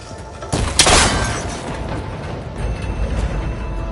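A shot strikes a cable connector in Horizon Forbidden West and it breaks with a loud, bright crack and metallic shattering burst, followed by a rumbling, booming tail that lingers under ambient game noise.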